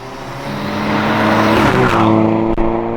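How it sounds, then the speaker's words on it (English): A turbocharged Mk5 VW GTI engine revs up loudly nearby, with a fluttering, chuffing whoosh as the throttle lifts near the end. "I was not expecting choo-choo sounds from a GTI"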